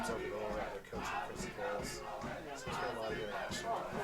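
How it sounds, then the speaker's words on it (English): Grizzlies fans shout and cheer at a girls high school soccer game, a crowd of voices rising in chant-like waves from the stands, moderately distant and blended with outdoor chatter. "Got some Grizzly fans out here to do the back and forth."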